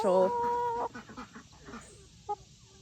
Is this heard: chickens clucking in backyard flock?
yes